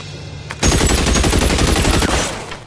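Rapid automatic gunfire in the LA Noire video game, a loud, dense burst of close shots lasting about one and a half seconds before trailing off.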